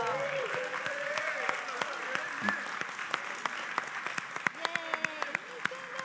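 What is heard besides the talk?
congregation applause for anniversary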